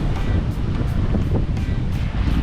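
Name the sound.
ocean waves on a beach in Mexico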